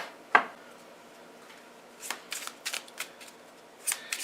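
Tarot cards shuffled for a reading: one sharp click, then a quiet gap, then a run of quick papery riffles and flicks close to the mic.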